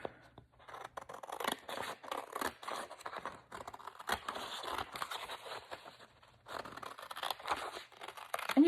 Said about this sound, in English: So let's maybe cut here.